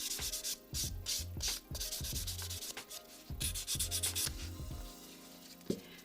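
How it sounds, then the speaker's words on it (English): A cushioned 150 grit file buffer smoothing fingernails, a close run of quick rhythmic rasping strokes in bursts with brief pauses, ending in a single sharp tap. "150 grit file. File buffer. Nice and cushioned so it wraps around the nail."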